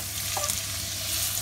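Thinly sliced onions, salted, frying in hot oil, giving a loud, dense, continuous sizzle close by with a faint stir.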